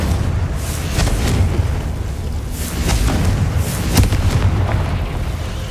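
Spell explosions from Hogwarts Legacy on PS5 give loud, heavy booms that roll one into the next, with dense rumbling blasts and a few sharp cracks filling the whole stretch.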